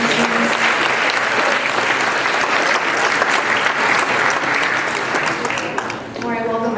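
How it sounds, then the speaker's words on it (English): An audience at a legislative meeting gives one last round of applause for semifinalist students, a loud, even wash of clapping that continues throughout and thins slightly near the end as a voice begins. "one last round of applause for semifinals and students."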